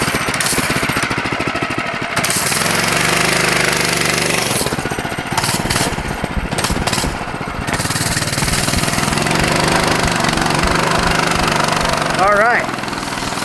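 A minibike engine runs loud and close at full throttle with a harsh, rapid rattling drone that wavers in pitch. Voices speak over it briefly.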